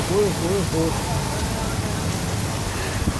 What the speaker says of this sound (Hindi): ये देखें बारिश का तूफ़ान आ गया।